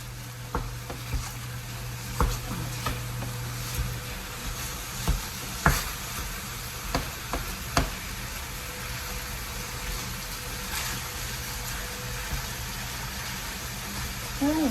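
Taco meat being broken up in a frying pan, with a steady sizzle and scattered scraping and clacking of the utensil against the pan, close and moderately loud.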